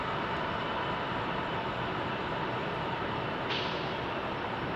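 A JetBlue airliner in retro livery passing over at Salt Lake City, heard as a steady, broad jet roar that holds level throughout without fading, fairly distant and with no talk over it.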